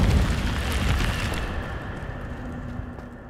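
Incendio fire spell cast in Hogwarts Legacy, a loud whooshing burst of flame that roars then fades out over a few seconds.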